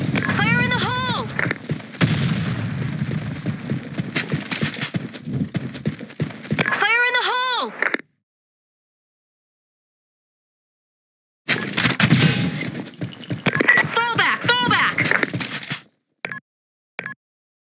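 Explosions and gunfire in a squad-based shooter video game, a heavy blast with bursts of shots, then a silent gap and a second loud burst with a few sharp trailing reports.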